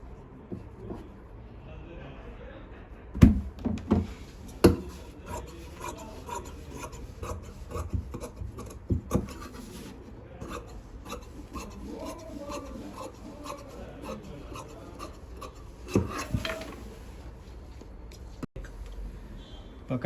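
Scissors snip and rasp through pattupavadai silk fabric and lining on a cutting table, a run of close scraping cuts with sharper clicks, steady and moderately loud with no talk.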